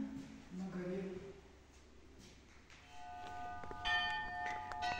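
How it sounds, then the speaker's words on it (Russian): A church bell rings faintly at a men's monastery in the mountains of Adygea, its sustained metallic tones entering midway under quiet voices nearby. "такой звук очищающий, колокол, люблю я колокола звук"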